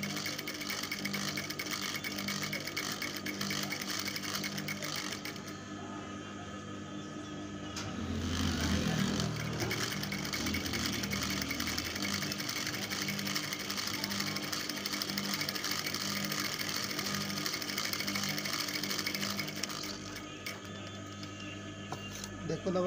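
Sewing machine running steadily as it stitches the collar onto a kameez, a continuous mechanical whir with a brief louder burst partway through, soft talk over it.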